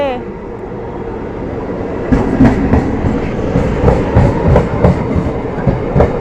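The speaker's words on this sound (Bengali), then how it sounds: "ওই দেখ ট্রেন আসছে" A train on rails approaches and rolls past with a loud, close rumble; rhythmic clickety-clack wheel beats build from about two seconds on, while voices talk faintly in the background.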